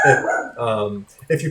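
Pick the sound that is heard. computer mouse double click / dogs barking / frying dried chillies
dogs barking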